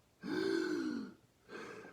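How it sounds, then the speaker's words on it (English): A tuba player's loud, strained inhale with a rasping, tense quality, followed after a short pause by a second, softer breath. "when you take a really big breath and it sounds like this"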